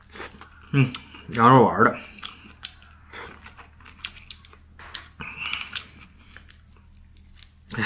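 Someone bites and chews a large homemade lamb-filled wonton close to the microphone, with a few crunchy, wet bites and chewing mixed in with talking.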